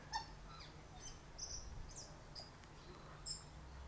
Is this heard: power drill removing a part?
no